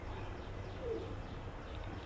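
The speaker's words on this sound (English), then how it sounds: "You hear the birds" Birds call faintly outdoors in nature, with a single soft dove-like coo standing out over a steady, muffled background hum. No voices are heard.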